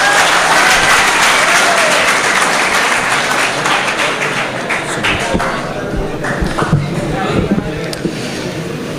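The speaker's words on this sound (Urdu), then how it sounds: "آپ زوردار تالیوں سے ان کا استقبال" An audience at a mushaira in Khamgaon claps loudly to welcome a poet, a dense steady burst of applause that slowly thins out toward the end.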